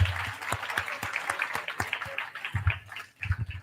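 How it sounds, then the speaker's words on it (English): An audience at a pharmaceutical sciences conference claps for the session's speakers, a thin scattering of individual claps that stays moderate and uneven, dips briefly near the end, then picks up again. "join me in the round of applause for all the speakers"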